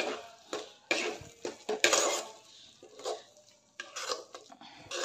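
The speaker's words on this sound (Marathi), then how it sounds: "तिला सर्व मॉइश्चर निघेपर्यंत परतून घ्यायचं आहे।" Sweet corn for a paratha is sautéed in a pan until its moisture evaporates, heard as irregular clinks and scrapes of a spoon against the metal pan in short bursts with quiet gaps between them.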